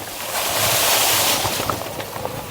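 A Rungu dualie off-road vehicle ploughs through a marshy stretch of water in Ouachita National Forest, giving a loud, sustained rush of splashing and churning water with wind buffeting the microphone, easing off toward the end.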